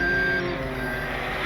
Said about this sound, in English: just put it in reverse and don't give any throttle